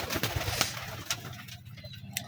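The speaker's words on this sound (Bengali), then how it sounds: "আমার কবুতর লফটের আপডেট" Pigeons coo repeatedly inside a pigeon loft, close and fairly loud, with soft rhythmic throaty calls overlapping through the short stretch and no voices.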